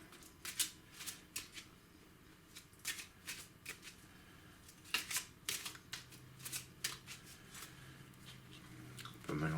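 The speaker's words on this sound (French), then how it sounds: "Je vais les remélanger." Playing cards are shuffled by hand in a quiet room, giving a series of soft riffling flutters and crisp snaps that repeat irregularly at close range.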